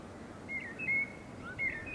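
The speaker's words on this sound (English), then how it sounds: "all I can hear is the birds" Birds chirp in short bright bursts, a few quick calls over a soft outdoor hush on a calm countryside trail after the wind has dropped.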